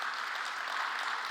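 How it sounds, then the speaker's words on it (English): A brief burst of steady applause from a crowd, evenly sustained clapping heard at a moderate distance. "Let's give another round of applause for"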